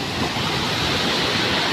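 Big ocean waves at Punta Harina Beach roar in a loud, continuous wash of surf with heavy wind noise across the microphone, no voices over it.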